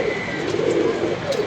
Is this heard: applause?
no